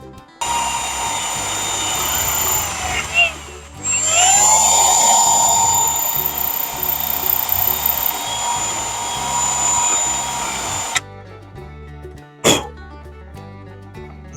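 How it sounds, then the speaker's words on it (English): A handheld drill with a drill bit opening slotted holes in a part for an old Ford hot rod, whining steadily at high pitch with rising and falling tones, then stopping near the end. "And I just did that with a drill and a drill bit."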